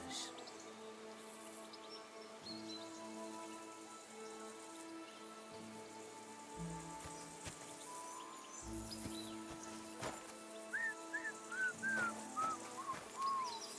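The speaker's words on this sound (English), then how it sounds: "Your whistling is getting on my fucking nerves the whole way." A character in the video game Kingdom Come: Deliverance II whistles a short, quick run of tuneful notes near the end, faint against a soft bed of rain pattering on surfaces.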